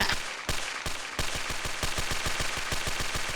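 A G36 rifle in a tactical shooter game fires a rapid string of sharp, evenly spaced shots, with a couple of short pauses early on before settling into a steady burst rhythm, loud and close.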